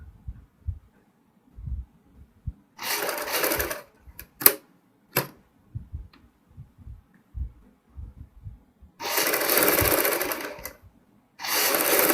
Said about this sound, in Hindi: बहुत ही आराम से आपने हल्के हाथ से सिलाई लगानी है।